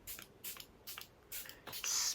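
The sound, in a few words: setting spray being sprayed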